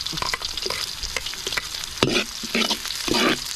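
Garlic sautéing in a pan for sinarsahan of mudfish and catfish, with bursts of sizzling and stirring scrapes close by, swelling louder toward the end.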